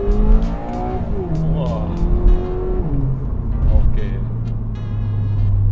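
A 2023 Subaru BRZ with an automatic gearbox accelerates hard in first gear, its engine note climbing in pitch then dropping at shifts, loud and close inside the cabin, with short exclamations spoken over it.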